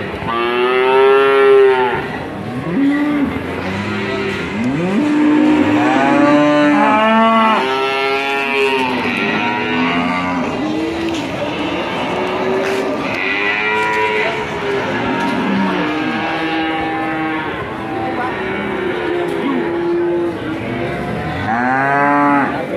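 Belgian Blue cattle at a market moo loudly and repeatedly in long, overlapping calls that fill the whole stretch.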